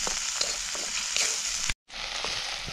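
Onion and tomato sizzle steadily in a pan while being stirred, with occasional scraping knocks and a brief gap of silence near the end.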